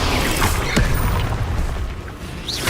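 Spells hit and explode in Hogwarts Legacy on Switch 2 as a continuous loud, rumbling barrage of blasts and crashes with a dense low-end roar throughout.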